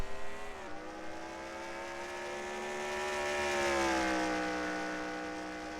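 Race cars in a truck series racing video game at the Circuit of the Americas, a sustained, rising and falling engine drone as vehicles run down a long straight, with pitch shifting smoothly and no talk.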